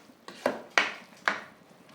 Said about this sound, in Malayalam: ഞാൻ നന്നായിട്ടൊന്ന് മിക്സ് ചെയ്യാം.